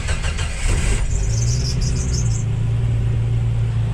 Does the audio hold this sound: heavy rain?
no